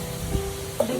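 Food sizzles and fries in a pan while a Bengali festive meal is being cooked, a steady close crackle with a couple of soft stirring knocks over about a second.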